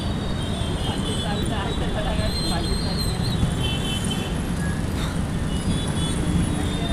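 Dense road traffic stuck in a jam in Ahmedabad, a loud constant rumble of engines and road noise with faint horn-like tones above, steady throughout with no voices.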